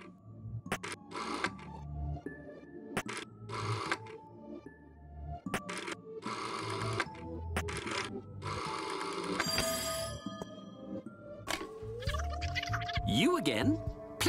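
A telephone rings repeatedly inside the video game There Is No Game, its bursts of ringing mixed with electronic game tones and glitchy effects, and a voice may be present.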